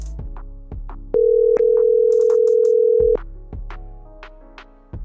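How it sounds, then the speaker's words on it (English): A phone call rings out through the handset, with a steady long tone lasting about two seconds set among shorter electronic beeps and blips, loud and close, with no voices. "I take my phone out and call Big Twon."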